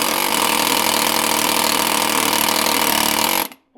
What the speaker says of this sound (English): For the air hammer. Yeah, the air hammers.